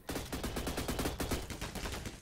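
Sniper rifle fire from the Intervention in the Phantom Forces video game amid dense in-game gunfire, a rapid run of loud, close shots packed together over a couple of seconds.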